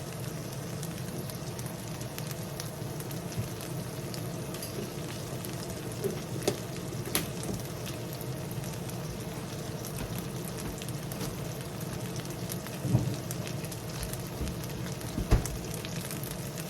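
A corned beef sandwich in butter on a stovetop griddle, giving off a steady soft sizzle like light rain, with a few faint pops and taps, no talk.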